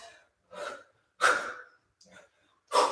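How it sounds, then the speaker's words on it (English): Forceful exhales during a kettlebell swing workout: several short breathy bursts about half a second apart, close and fairly loud, with no talk. "One or two exhales."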